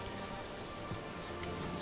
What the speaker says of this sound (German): Sieht nach Regen aus.